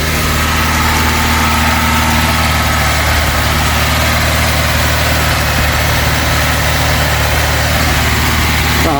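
A Vauxhall Cavalier MK2 engine idling just after a carburettor rebuild, a loud, steady close-up drone with a constant low rumble throughout and no speech.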